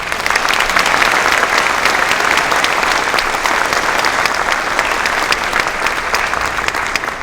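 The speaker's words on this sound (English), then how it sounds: "I think they deserve a round of applause." Sustained, dense audience applause for band students at a holiday concert, loud and steady throughout with no talk over it.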